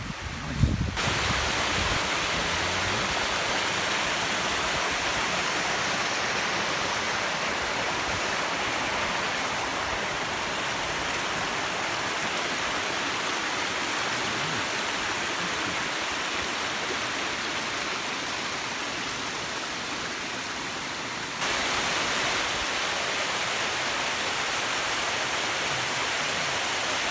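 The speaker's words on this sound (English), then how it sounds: "Great bridge with a waterfall." Waterfall beneath a bridge on a river walk at Edzell, its constant full rush of water roaring steadily for the whole stretch, close and loud, with a brief bump at the start and a slight level shift near the end.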